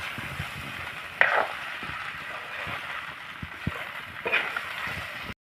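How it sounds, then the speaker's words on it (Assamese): Rice for chicken pulao fries in a pan with a steady close sizzle, and occasional stirring scrapes break through it. "5-10 মিনিট ভাজি থাকিব লাগিব এনেকৈ।"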